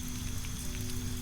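Rain falls on a cabin in a rainforest, a soft, even patter with a low steady rumble underneath, close and unbroken for the brief moment.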